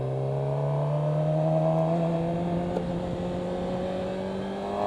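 A Suzuki GSX-R600 sport motorcycle engine drones steadily at high revs while downshifting, its pitch shifting slightly, heard close up with wind noise and no talking.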